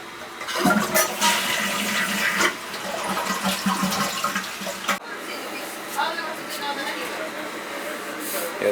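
A toilet with a 3-inch flush valve flushes nearby, with rushing and gurgling water that surges and then settles into a quieter refill trickle, while a voice talks over it.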